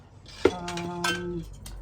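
Pieces of cathedral stained glass for a mosaic butterfly clink together as they are set aside: a sharp, bright glassy strike with a brief ring, then a second lighter clink, close by and over faint background sound.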